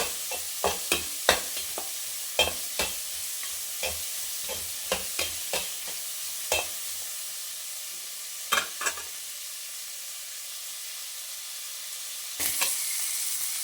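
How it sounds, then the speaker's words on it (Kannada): Onions frying in a pan toward golden brown for mutton sukka, a low steady sizzle punctuated by a series of sharp clacks of stirring, close and fairly quiet, with no speech. "ಸ್ವಲ್ಪ ರೋಸ್ಟ್ ಆಗಲಿ ಚೆನ್ನಾಗಿ ಗೋಲ್ಡನ್ ಬ್ರೌನ್ ಬರೋವರೆಗೂ ಸ್ವಲ್ಪ ಫ್ರೈ ಮಾಡ್ಕೊಳ್ಳೋಣ ಈರುಳ್ಳಿನ"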